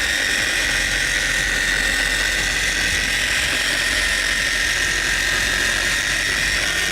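A Wax Attack Professional polishing machine runs steadily nearby, giving a loud, continuous motor whine with an even buzzing hum that holds without pause.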